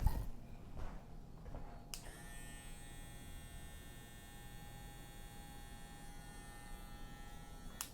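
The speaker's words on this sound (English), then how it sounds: "They sound good, but I'm saying they make a clipper noise for sure." Style Craft Pro Brushless Saber 2 hair clippers switching on after a couple of faint handling clicks, then running with a steady buzzing electric hum and a high whine, fairly quiet and close.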